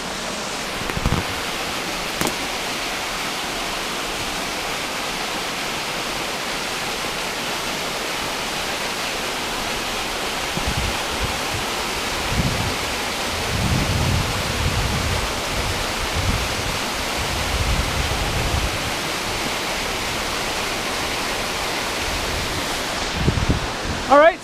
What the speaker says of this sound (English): presenting a tributary to the North Branch Baddeck River Fall